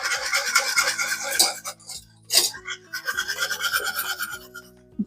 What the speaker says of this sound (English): So now you just want to continue to whisk this until it becomes like a thick pudding.